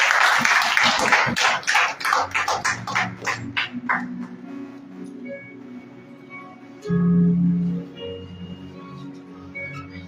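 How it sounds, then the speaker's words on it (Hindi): Congregation at a Good Friday church meeting clapping loudly to welcome a speaker, a burst of strong claps that thins into scattered slowing claps, followed by a voice speaking. "आइए हम सीमा सिस्टर का जोर और पवित्र आत्मा का जोर से ताली बजाकर स्वागत करें"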